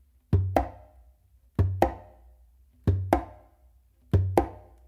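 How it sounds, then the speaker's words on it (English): Four evenly spaced pairs of sharp, close conga slaps struck with the dominant hand, each pair a quick double hit with a short ringing decay, played alone in a steady repeating pattern. "I'm coming now here with my dominant hand to do the close slap portion"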